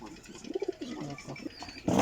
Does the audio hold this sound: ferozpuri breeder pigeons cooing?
yes